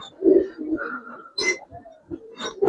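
A Giribaz silver pigeon cooing up close in a series of low, throaty coos and soft burbling calls with brief pauses between them, with a sharper flutter near the end.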